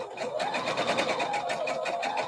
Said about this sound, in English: So we just need to lengthen our stitch length and continue right down